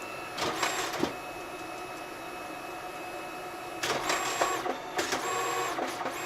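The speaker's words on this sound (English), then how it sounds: "the way this prints kind of reminds me of the QW printer by DNP" A large-format photo booth printer runs steadily as it prints a 6x20 photo strip. The mechanical hum is continuous, with sharper whirring bursts at the start and again near the end as the paper feeds.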